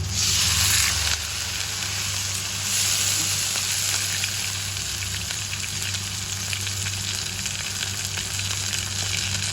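Pink salmon fries in a cooking pan with a steady, close sizzling hiss that holds throughout, a little louder at the very start, with no talking over it.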